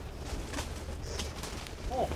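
A dove-like bird coos softly at the abandoned old Gatorland Park in Florida, a brief low call near the end of the clip set against steady outdoor noise, with no clear talk.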